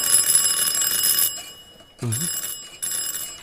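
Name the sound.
calling bell ringing at the door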